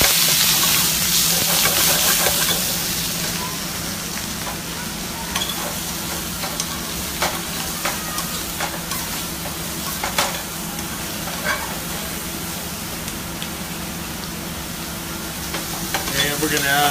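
Onions and peppers sizzle steadily in a hot pan during an outdoor shrimp cooking demo, a broad constant hiss with scattered pops and occasional stirring, loud at first and then settling to an even fry.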